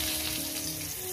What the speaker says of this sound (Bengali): দিয়ে আমি আলুগুলো সুন্দর করে লাল লাল করে ভেজে নেব